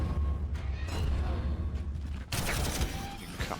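In Warhammer 40,000: Armageddon, gunfire strikes tanks as a dense, continuous rumble of overlapping shots and booms over a low drone, growing harsher and louder partway through.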